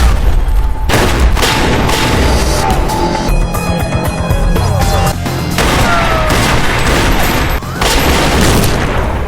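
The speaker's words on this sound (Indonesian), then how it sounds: "terjadi adu tembak" Gunfight in a film with rapid bursts of gunshots and booming impacts, loud and dense throughout, layered with a continuous dramatic score and mixed sound effects.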